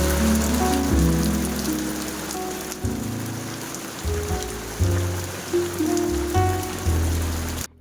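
Heavy rain drums steadily and loudly on a surface nearby, continuous and dense, with low rumbling bumps underneath and no voices.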